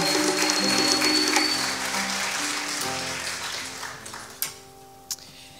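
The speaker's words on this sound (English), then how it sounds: "if you'd give them another warm round of applause" Warm audience applause at a concert, a dense wash of clapping over sustained musical tones that thins and fades away, leaving a couple of isolated sharp taps near the end.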